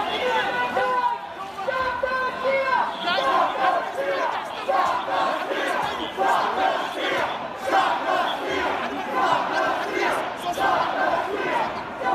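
Large crowd of insurrectionists at the Capitol chanting and shouting in rhythmic unison, a dense continuous roar of many voices with repeated chant bursts throughout.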